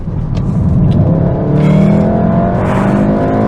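A 2015 Volkswagen Golf R engine pulls hard under acceleration, loud and close, its rising tone climbing steadily over about three seconds with road and wind noise around it.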